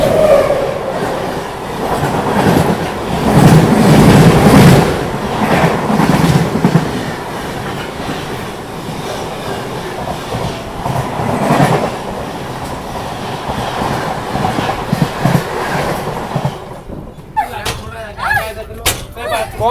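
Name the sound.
Mahanagari Express train passing on the opposite track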